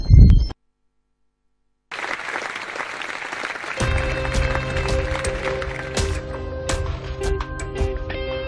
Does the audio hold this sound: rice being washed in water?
no